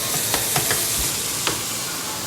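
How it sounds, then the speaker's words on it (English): A whole jumbo onion sautéing in shrimp-flavoured oil for a Cajun crab and shrimp sauce piquant, loud steady frying hiss with a few sharp stirring taps. "you're going to add onion, a whole jumbo onion to that oil. So we're going to saute that up."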